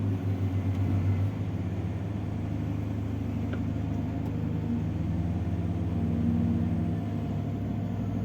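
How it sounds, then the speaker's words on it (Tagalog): A dump truck engine idles and rumbles steadily nearby during light rain, a low droning hum that holds for several seconds with no voices. "ayun na pong dump truck"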